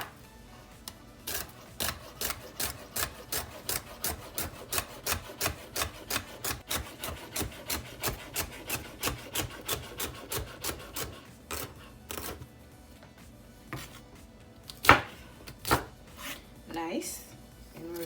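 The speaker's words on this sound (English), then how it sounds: "So I'm just gonna cut up my celery stick." A knife chops a celery stick on a cutting board in quick, regular, crisp taps, close by, slowing to a few scattered cuts and a louder knock near the end.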